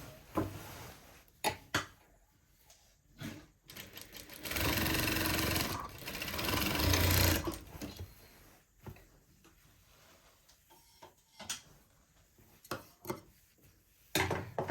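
A sewing machine stitches a Peter Pan collar in two bursts of steady whirring, one longer and one shorter, with scattered fabric handling clicks and rustles before and after, close by.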